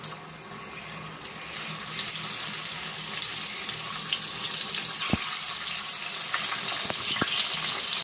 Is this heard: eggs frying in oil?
yes